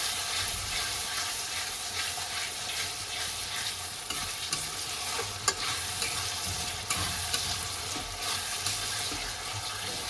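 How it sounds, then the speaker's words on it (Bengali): Tomato masala fries in a pan for chicken biryani, a dense continuous sizzle with soft stirring and an occasional utensil tap, close and steady throughout. "টমেটোটা এবারে গলবে, একটুখানি মশলাটাকে ভেজে নেবো।"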